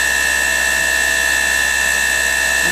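A KSI SQC-38 CNC Swiss-type lathe spindle turning at 4,000 RPM, heard from about 4 inches away, gives a loud, steady high-pitched machine whine with sharp tonal lines over a constant low hum, unbroken throughout.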